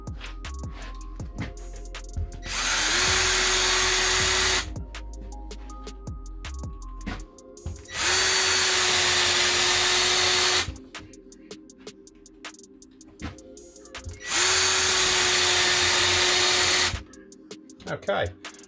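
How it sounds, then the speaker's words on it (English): A Ryobi ONE+ cordless drill driver set to first gear with low torque drives screws into OSB board in three loud, sustained whirring bursts, separated by clicks, handling noise and pauses. "So we're going to start with screwing a few screws into this OSB"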